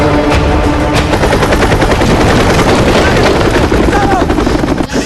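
Rapid machine-gun bursts and gunshots crack over the thudding rotor of an enemy helicopter in a dubbed war film, loud and dense, with shouted voices mixed in among the firing.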